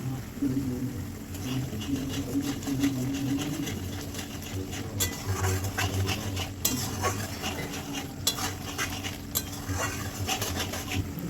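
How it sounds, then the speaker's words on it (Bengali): Chicken legs being stirred with masala, salt and chilli powder in a pan, with repeated metallic scraping and clinking of a spoon over a low sizzle, growing busier halfway through. "এই পরিষ্কার করে রাখা ঠ্যাংগুলো ভালো করে নেড়ে নেব"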